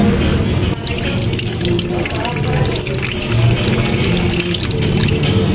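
Water is poured from a tap or vessel into a small container for a pet myna bird, a continuous close splashing trickle throughout.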